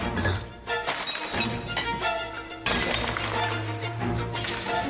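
A glass crashing and shattering, with loud bright breaking bursts over a dense, noisy background that seems to carry music or effects, no clear speech.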